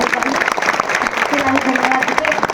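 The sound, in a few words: audience applause for a little girl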